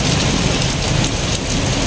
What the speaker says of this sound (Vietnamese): Giờ trời mưa quá mưa.